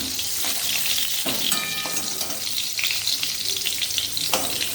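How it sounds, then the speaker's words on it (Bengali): Pointed gourd (potol) frying in hot oil, browning until reddish, with a steady dense sizzle and occasional stirring scrapes and clinks of a utensil against the pan, close and continuous. "লাল লাল করে পটলটা ভেজে নিয়েছি"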